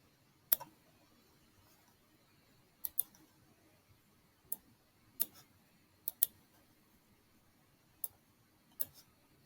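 Mouse clicks while editing and erasing in Photopea on a Chromebook, about nine sharp isolated clicks spaced irregularly, some in quick pairs, close and quiet over a near-silent background.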